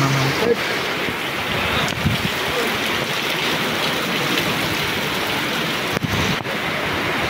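A storm of wind and rain in Kerala gives a steady, roaring wash of noise with wind buffeting the microphone and a few brief knocks.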